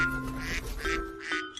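A cartoon duck quacks several times in a row, with clear, nasal, close-up quacks in short rhythmic bursts.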